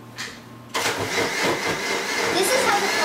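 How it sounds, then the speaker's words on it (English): A kitchen blender starts up to pulp paper for homemade paper making. After a quiet moment, a loud motor whir kicks in abruptly and holds steady to the end. "we'll start blending it"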